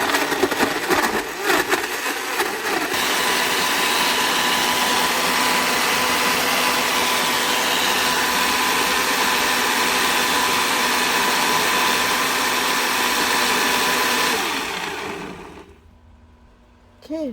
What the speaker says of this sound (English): Ready to blend it.